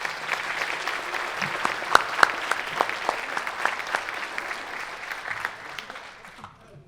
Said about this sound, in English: take a moment to clap and thank these folks for the work that they're doing